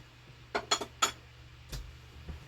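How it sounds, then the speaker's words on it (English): A small bowl taken from a shelf, a quick run of light clinks and knocks of crockery against crockery, then a softer bump or two, close and quiet. "Just grabbing a little bowl here from my shelf"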